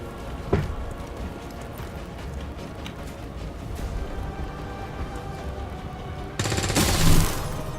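Resistance fighters' gunfire in the video game XCOM 2: War of the Chosen, a steady rattle of distant shots under ambient battle noise, with a sharp crack early on and a louder noisy burst near the end.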